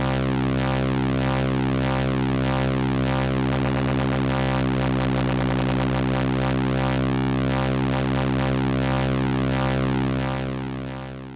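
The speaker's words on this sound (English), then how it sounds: "So that's the type of sounds we get when we splice together two different waveforms." A Eurorack modular synthesizer splicing two different waveforms into one steady, buzzy, harmonically rich drone with a slowly shifting timbre, held loud and continuous before fading slightly at the end.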